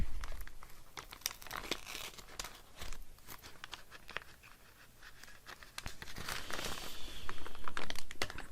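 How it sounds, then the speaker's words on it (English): Paper tearing and crinkling during an inking craft session, with irregular close rips and crackles that swell louder toward the end, alone without talk. "The paper tore a little bit right there."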